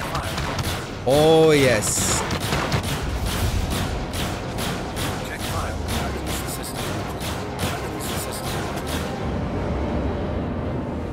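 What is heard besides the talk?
ship weapons firing in Star Citizen video game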